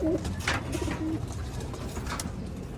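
Soft, low cooing from a bird comes in brief phrases over a noisy outdoor background, with faint distant sounds.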